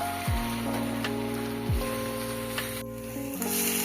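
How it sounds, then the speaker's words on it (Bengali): Kheer with grated coconut bubbles in a pan over a gas flame, a steady close sizzling simmer like light rain, with a couple of brief low tonal sweeps and no talk. "তো আরেকটু ফুটলেই আমার ক্ষীরটা তৈরি হয়ে যাবে"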